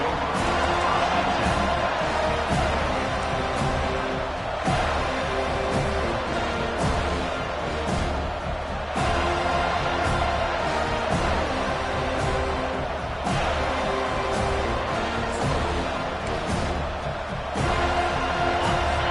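A continuous roar of a stadium crowd cheering in an EA college football video game, dense and loud throughout, with announcer commentary under the noise.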